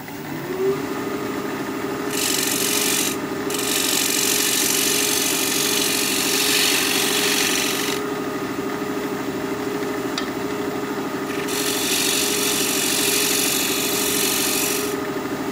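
A thin natural edge wooden bowl is sanded at 120 grit on a spinning lathe, with a steady motor hum under a loud rasping scrub that swells and eases in several passes, with no talk.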